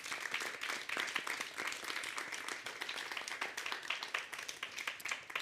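Audience applause at a festival session after talks, a dense, steady wash of many hands clapping at moderate distance, continuing evenly throughout with no voices over it.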